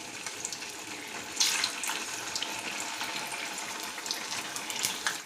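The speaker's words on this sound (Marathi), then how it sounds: "ह्याच्यामध्ये मी आपले 2 ते 3 असे थोडे थोडे टाकून आपण तळून घेणार आहोत." Veg momos fry in hot oil, two or three at a time, giving a steady bright sizzling hiss that swells briefly, with no voices.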